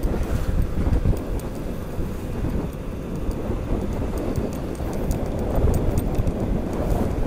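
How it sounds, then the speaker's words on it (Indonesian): Strong wind buffets the microphone in a steady, loud roar while riding a motorbike along a village road in Subang, West Java. "Anginnya kenceng banget guys"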